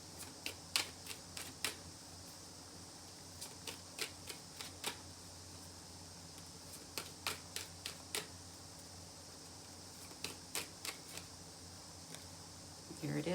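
Tarot cards get shuffled and drawn during a live Libra reading, giving scattered short crisp flicks and snaps in small clusters across a quiet, steady background hiss, faint and close, with a few slightly louder bursts near the end.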